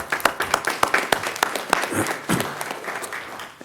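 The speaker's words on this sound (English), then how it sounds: "let's give them a round of applause as well." Applause fills a city council meeting: a crowd claps steadily, with sharp individual claps standing out from the dense patter before it thins toward the end.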